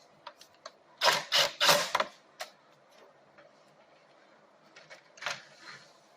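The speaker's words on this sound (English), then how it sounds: "Then you put all your screws back in." Screws being driven back into the casing of a mini split air conditioner produce a burst of sharp ratcheting clicks and metallic ticks, close and loud, followed by quieter scattered taps and a final short clatter.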